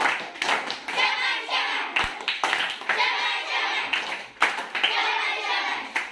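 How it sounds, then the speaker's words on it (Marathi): Children clapping a rhythmic 'shabaski' praise pattern in a classroom, bursts of group claps in a repeating beat, close and fairly loud with some children's voices mixed in. "यानंतर आपण पाहूया शाबासकीची टाळी"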